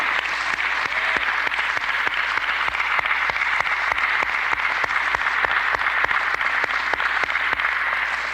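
An audience at a church gathering claps for Minister Donald and his staff, a steady, fairly loud wash of applause with a few sharp individual claps standing out throughout.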